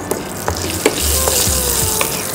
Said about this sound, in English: tadka, I'm using the fenugreek seeds now